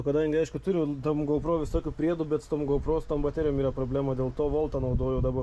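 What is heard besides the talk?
No everyday noise stands out behind the speech.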